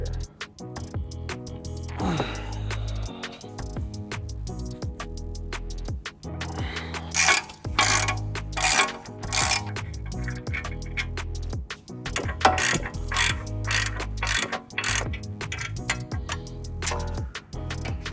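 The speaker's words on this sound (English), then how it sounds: "Now we're gonna pull the caliper bracket with a 21mm." Ratchet with a 21mm socket loosening brake caliper bracket bolts on an MK7 GLI, giving repeated bursts of fast, close clicking with brief pauses between strokes.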